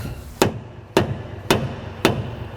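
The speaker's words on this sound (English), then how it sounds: "I'm gonna get a bigger plastic hammer." A plastic hammer strikes at a steady pace to drive the pinion out of a truck axle differential. Five sharp, loud blows fall about half a second apart over a low background hum.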